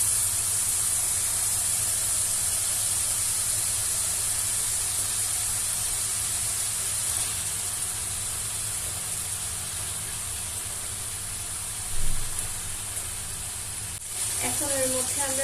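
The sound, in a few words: chicken pieces sizzling in fried spice paste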